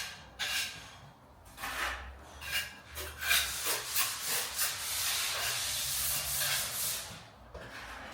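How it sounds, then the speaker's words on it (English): Hand sanding over drywall imperfections, rhythmic scratchy rubbing strokes in short bursts, then a longer continuous pass, fairly close and without talk. "just maybe doing some last minute sanding of any imperfections"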